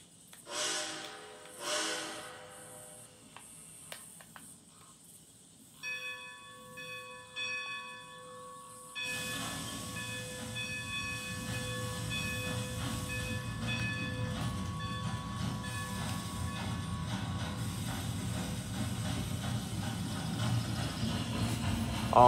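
A steam train in Red Dead Redemption 2 chimes a bell and hisses, then settles into a loud, steady chugging rumble that runs on continuously.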